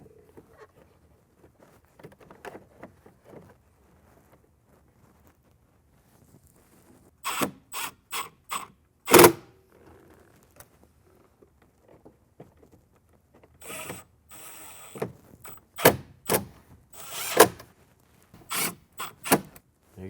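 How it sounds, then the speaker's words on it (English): Screws are driven to mount a speaker into a Jeep Wrangler TJ door, giving sharp ratcheting clicks and short mechanical bursts in two clusters, close and fairly loud against a quiet background. "mount the speaker right back into the same spot"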